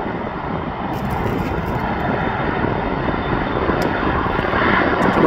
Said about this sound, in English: Oh, there's another plane coming in.